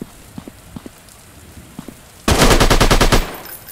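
Automatic gunfire in an Android army mission video game: after quiet scattered taps, a loud rapid burst of about a dozen closely spaced shots rattles for roughly a second and then stops.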